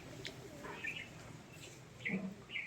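Soft coos of native Bangladeshi domestic pigeons and a few chirps, close by and fairly quiet, with brief gaps between calls over low background noise.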